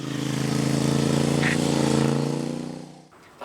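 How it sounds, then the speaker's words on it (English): A 2005 Suzuki SV650S K5 with a liquid-cooled, fuel-injected 650 V-twin runs with a steady, humming engine note nearby, then cuts out abruptly near the end. "It's a liquid cooled 650V twin, which is fuel injected."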